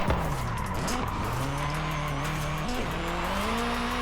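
A car in the racing game Forza Horizon 5 drifts and skids, its engine note rising and falling in revving sweeps while tires squeal steadily throughout, loud and close, with no speech.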